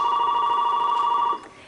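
An old-style telephone bell rings steadily for over a second, then cuts off, leaving quiet background; the tone is loud, clear and unbroken, with nobody speaking over it.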